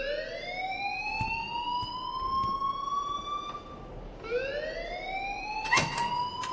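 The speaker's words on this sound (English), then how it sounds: "please turn off that alarm since that's your job" An alarm ringing in the video game Life is Strange, a repeated rising electronic siren-like wail sweeping upward in cycles, with a brief clatter near the end and no voices.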